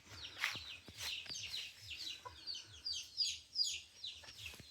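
Chickens on a farm in Palawan clucking in short, repeated bursts close by, with several calls overlapping over a quiet background.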